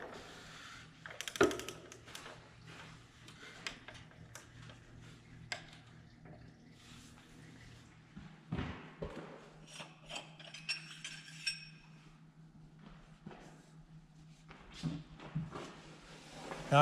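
A torque wrench ratchets and clicks while tightening a filter housing back down, a string of faint, irregular mechanical clicks and ratchet sounds spread through a quiet workshop setting, with a few louder knocks.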